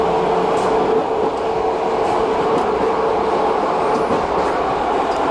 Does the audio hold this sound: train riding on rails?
yes